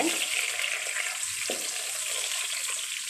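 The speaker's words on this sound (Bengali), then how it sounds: "এতে দিয়ে দিব তেজপাতা, এলাচি, দারুচিনি। এগুলোকে একটু ভেজে নেব" Bay leaves, cardamom and cinnamon frying in a pan, a soft continuous sizzle with a few light scraping stirs.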